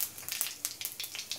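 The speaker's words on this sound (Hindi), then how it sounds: "कढ़ाई में बचे हुए तेल में हम तड़का लगाएंगे" Crackling sizzle of chillies, cumin and asafoetida dropped into hot oil in a kadhai for tempering, with bright bursts of spitting and popping, close and steady.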